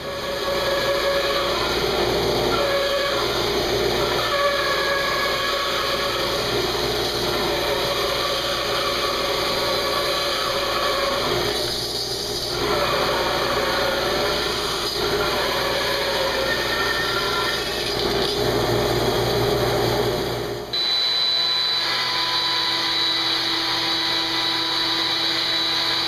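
Continuous loud whine of a power saw ripping wood boards into thin strips for lamination, a steady drone for most of the span with a brief change in pitch partway and an abrupt shift near the end, no talking.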